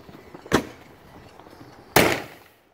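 Two firecrackers set off on the Fourth of July crack sharply about a second and a half apart, fairly close, the second bang ringing out slightly longer before quiet.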